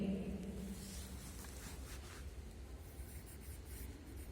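Pen or chalk scratching steadily as an answer is written during a Hindi lesson in a class 3 classroom, a faint continuous rubbing texture with soft hiss and no voices.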